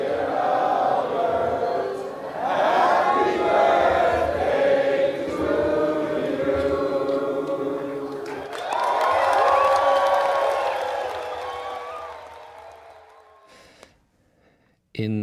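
An audience spontaneously sings Happy Birthday in a hall at the 100th birthday celebration of chemist Albert Hofmann, a crowd of voices in loose unison with sustained notes, swelling twice before trailing off into quiet.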